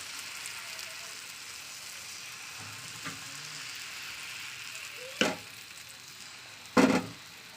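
Food sizzles in hot oil in a heated kadai, making a steady, soft frying hiss throughout, broken by two sharp metallic clanks of a utensil near the end.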